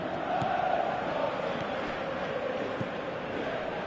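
A dense, steady roar of a large stadium crowd at a football match, continuous and distant-sounding, with no clear breaks.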